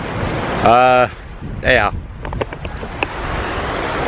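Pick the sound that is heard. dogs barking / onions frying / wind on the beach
wind on the beach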